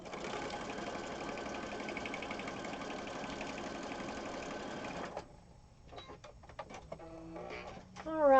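A sewing machine runs steadily for about five seconds, stitching a fabric cover for a junk journal, then stops and gives way to small handling clicks and rustles.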